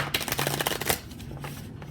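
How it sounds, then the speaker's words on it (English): A deck of tarot cards shuffled by hand, a quick rapid flurry of crisp riffling clicks in the first second, then softer sliding and settling of the cards, close and quiet. "I need to shuffle it real good"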